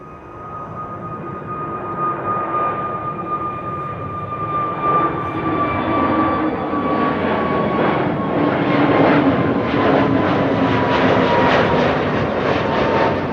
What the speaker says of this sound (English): No, it needs to go slow, so it's going to take off this runway.